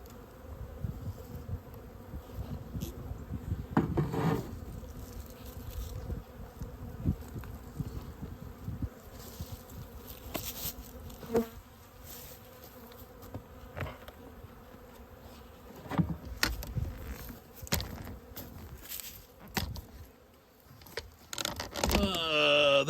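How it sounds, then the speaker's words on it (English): Honey bees buzzing in a winter beehive, a low, continuous hum with louder swells as individual bees pass close, heard on its own without talk. "So they've got a lot of bees and they need some sugar."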